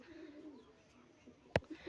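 Pigeons coo softly in a low, murmuring rhythm in the background, with a brief sharp knock near the end.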